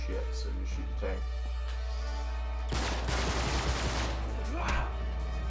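Gunfire at a tank in the video game Uncharted 3: Drake's Deception, a dense burst of rapid shots around the middle and again near the end, loud and close over steady game background, with a voice talking early on.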